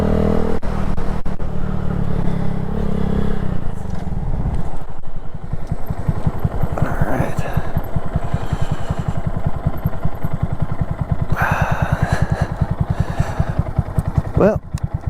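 A 2022 Honda Grom motorcycle on a ride, its small single-cylinder engine droning and pulsing steadily with shifts in revs, loud and close, while a rider talks over it at times.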